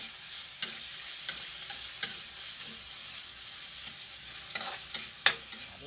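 Squid adobo with tomatoes being stirred in a pan, a steady quiet sizzle broken by a series of spatula clacks against the pan, louder toward the end.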